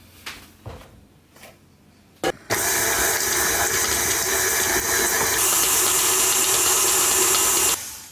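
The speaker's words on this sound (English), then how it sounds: "we're going to beat it together till it's nice and combined" An electric hand mixer beats sugar and golden syrup together for a Simnel Easter cake, its motor switching on with a sudden loud whirring buzz and running steadily for about five seconds before cutting off.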